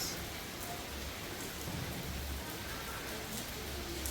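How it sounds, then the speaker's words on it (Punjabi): Rain falls at night in calm, windless air, a soft, even hiss of drops that stays faint and unbroken throughout, with no voices. "ਵੈਸੇ ਹਵਾ ਤਾਂ ਬੰਦ ਆ ਕੱਲਾ ਮੀਂਹ ਪੈ ਰਿਹਾ ਬਸ"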